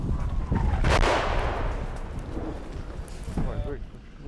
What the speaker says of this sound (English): As we make our way back from the trenches, more Russian artillery fire targets Andrei's convoy